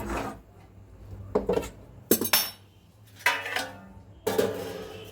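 A pot of soybeans lifted off the stove and covered with a lid, heard as several separate clinks and knocks of metal and utensils, spaced out with quiet gaps between them.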